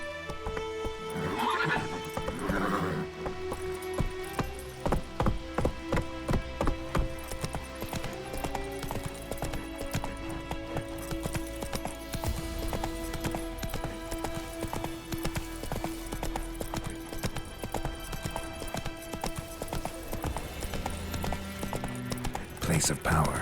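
Roach the horse gallops in The Witcher 3 video game with a quick, rhythmic clip-clop of hooves and several whinnies. The hooves sit over a musical score, and a voice is also present.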